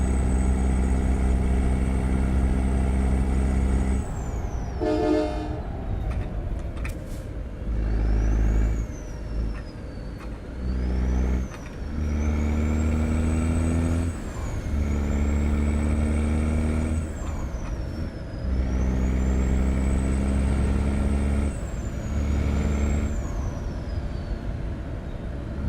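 A heavy truck in American Truck Simulator drones loud and close, its engine note climbing and falling through gear changes, with the deep staccato rumble of a Jake brake and the hiss of air brakes, with no talk.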